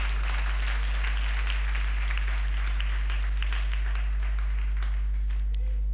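A church congregation at a Sunday service claps hands in sustained dense applause, loud over a strong low electrical hum, with a voice faintly audible.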